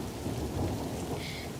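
Heavy rain pours steadily during a thunderstorm with a low rumble of thunder, a dense, loud, continuous wash of sound with no voices.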